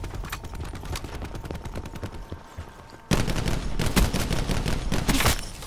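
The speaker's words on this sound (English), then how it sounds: "I'm being shot." Rapid gunfire from Call of Duty: Black Ops 4 rattles in bursts, with a softer stretch of shots giving way to a louder, denser volley partway through. Heavy shots boom near the end.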